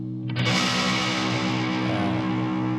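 An electric guitar chord played through a distortion pedal is struck once and left to ring, thick and buzzing, sustaining at steady loudness without fading much.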